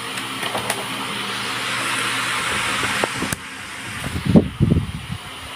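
A vacuum sealer runs with a steady hissing motor drone for about three seconds, then cuts off, followed by several close rustling and crinkling bag sounds.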